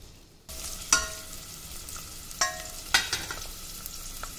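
Garlic and ginger hit 1.5 tablespoons of hot oil in a pan with a sudden sizzle that settles into steady frying, broken by a few sharp stirring scrapes against the pan.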